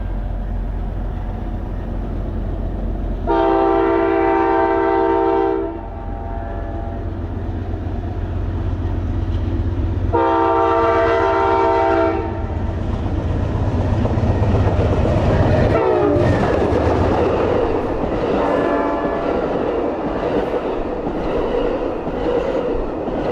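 An Amtrak passenger train approaches the Gilman platform, sounding two long loud horn blasts, then rumbles past close by with rhythmic clattering wheels on the rails.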